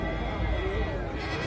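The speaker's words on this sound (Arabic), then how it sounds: "معنا ثلاث خرفانة هم." Sheep bleat at a livestock market in Daraw, Aswan, a wavering cry rising over dense crowd noise and talking voices.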